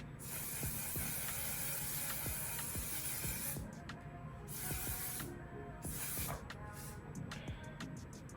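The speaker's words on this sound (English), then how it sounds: "I'm just gonna go into the Onesize spray first to just lock everything in" A steady, close hiss of an aerosol makeup setting spray runs for several seconds, with a few brief pauses and faint clicks, no voices.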